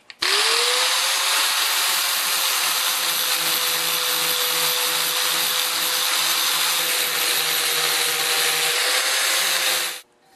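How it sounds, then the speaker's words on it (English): Angle grinder fitted with a flat disc grinding a bevel onto steel for a welding cart build, a loud, steady high whine that holds for about ten seconds and then cuts off sharply, with no talking. "And for that I'm using a flat disc on my angle grinder."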